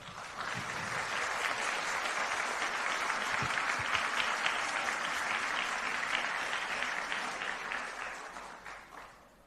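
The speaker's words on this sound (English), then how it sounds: "round of applause for University of Wisconsin-Madison." A large audience gives a sustained round of applause at a Formula SAE design review awards ceremony, honoring the University of Wisconsin-Madison team. Dense, even clapping fills about nine seconds, then tapers off at the end.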